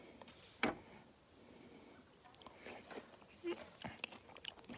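Someone bites into and chews a piece of fresh, juicy pineapple, with a few soft crunches and wet chewing sounds, close and quiet, spaced irregularly.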